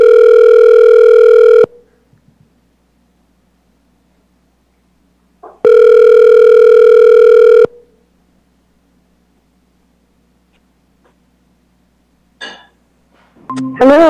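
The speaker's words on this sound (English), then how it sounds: "Yes, I'm dialing her now." During a remote community services committee meeting call, a telephone dial tone sounds loud and steady for about two seconds, then drops to silence. It returns for another two seconds, followed by a few faint clicks and brief electronic beeps near the end.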